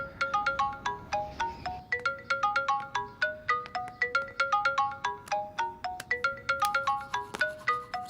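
A phone ringtone plays a bright, repeating electronic melody of quick stepped notes for about eight seconds, steady and fairly close, with no voices.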